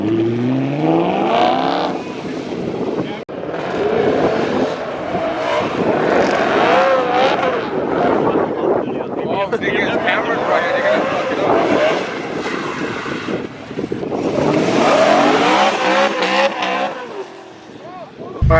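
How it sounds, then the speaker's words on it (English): A BMW M3 at an outdoor car show and toy drive gives a couple of loud revs, roaring up and falling back over a busy crowd, with voices and other engines mixed around it. "Give me a quick rev or two."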